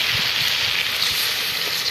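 Water poured into a cooking pan holding ginger-garlic paste while making chicken white karahi, giving a steady, close hissing and sizzling wash that runs unbroken for the whole stretch with no talking.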